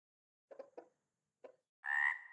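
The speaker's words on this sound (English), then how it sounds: "Ah, so mousing over them plays the sound. Chicken frog." Chicken frog croak from a video game jam entry, two short croaks, a pause, a third croak, then a longer tonal squawk, alone against silence.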